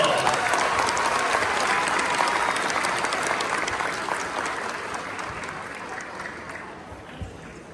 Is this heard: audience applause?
yes